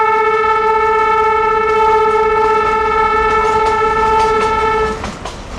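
Close by, the horn of a narrow gauge 610 mm mountain train at Matheran blares one long, loud, steady blast for about five seconds, then cuts off, leaving the rumble of the running train.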